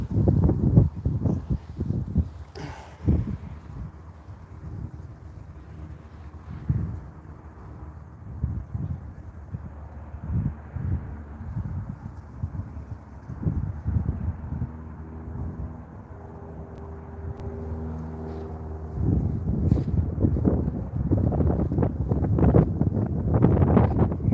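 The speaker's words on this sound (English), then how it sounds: "that wind's nasty" Strong gusty wind by a river buffets the microphone in rough, rumbling bursts that swell and ease across the whole stretch, loud and close.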